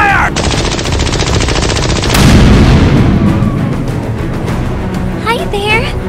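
Rapid machine-gun fire rattles loudly and continuously in the BeamNG.drive video game, dense and sustained, with voices talking over it and a brief burst of something else near the end.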